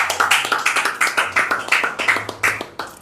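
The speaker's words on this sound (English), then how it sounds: "So once again, please, a round of applause for AMMBAN." A small group claps at a press briefing, a sparse, uneven run of distinct sharp claps spaced out over a few seconds, close and fairly clear with no talking.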